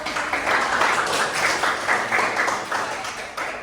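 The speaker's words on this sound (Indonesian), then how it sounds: "Oke, tepuk tangan juga." A school class claps for a student, a lively patter of many hands in bursts that swell and ease slightly, fairly close and loud, with no talking over it.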